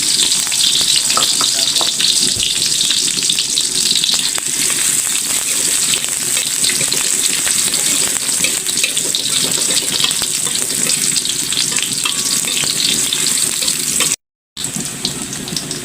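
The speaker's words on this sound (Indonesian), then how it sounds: "Pertama kita numis dulu pakcoy. Bawang merahnya sama bawang putih" Shallots and garlic sizzle steadily in hot oil in a pan at the start of a bok choy stir-fry, a loud, continuous crackling fry close by that stops for a brief moment near the end.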